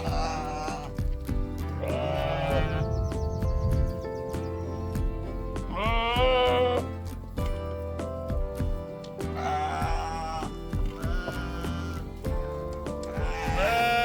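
Young lambs bleat repeatedly during ear tagging on a farm, with several loud, wavering cries rising over a busy background of clattering and livestock noise.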